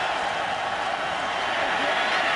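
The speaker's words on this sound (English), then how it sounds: "talk about the crowd noise here at LP Stadium" Steady roar of a stadium crowd at LP Stadium during a 2011 NFL football game, Bengals at Titans, a dense, unbroken wash of noise that holds at the same level throughout.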